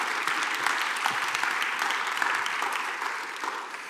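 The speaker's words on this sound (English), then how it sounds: "Please welcome our panelists with a round of applause." A room full of people claps steadily for several seconds, a dense even wash of applause that tapers slightly toward the end.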